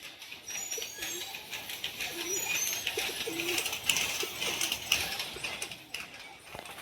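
Pigeons cooing in repeated soft, low calls over a hiss of background noise, close by, with no talk.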